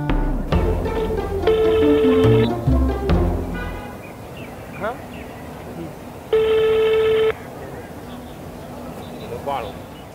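A phone rings with two long, buzzing electronic tones several seconds apart, close and clear, while people talk over a street background and other short beeps and chirps.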